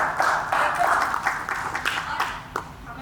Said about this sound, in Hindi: तालियां बजाएं माँ जी के लिए।